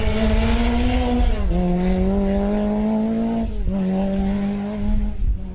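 A Lancia 037 Group B rally car at the 2012 Ypres Rally holds a loud, sustained engine howl close by, with pitch steps marking gear shifts and a brief tire squeal.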